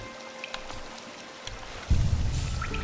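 Hollow Knight water ambience at a lakeside rest area, soft dripping and rain-like patter with a low watery rumble that swells louder near the end, faint under gentle music.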